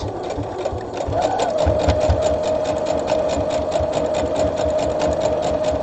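A sewing machine stitches steadily around the edge of a drawstring bag, a continuous close mechanical whir with rapid needle clatter that picks up slightly in speed after the first second and runs without pause.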